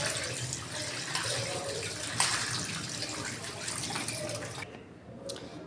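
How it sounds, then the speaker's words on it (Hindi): A tap runs water to rinse salted grated pumpkin in a kitchen, making a steady splashing flow close by that eases off near the end, with no talking. "अब इधर मैं लूँगी पानी, इसमें हम साफ़ कर लेंगे इस तरह"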